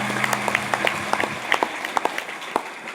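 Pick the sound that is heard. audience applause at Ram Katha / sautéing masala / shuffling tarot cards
audience applause at Ram Katha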